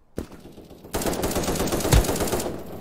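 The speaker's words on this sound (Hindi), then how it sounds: "अब चलाएंगे हम गन" Gunfire from a modded Minecraft video game match, a loud, dense stream of rapid automatic shots that starts abruptly and continues almost without a break, with a few heavier bangs mixed in.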